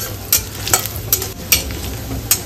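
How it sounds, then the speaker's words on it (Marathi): Onion frying in oil in a kadhai for Kolhapuri mutton gravy, with a steady low sizzle broken by several sharp scraping stirs of a spoon against the pan, close and fairly loud. "तेल टाकून घेऊ. जो कांदा आहे ह्यात टाकते मी."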